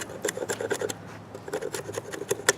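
A knife blade scrapes along wood to carve feather sticks, making close, rasping strokes in quick rhythmic bursts, with a short pause partway through before the scraping resumes.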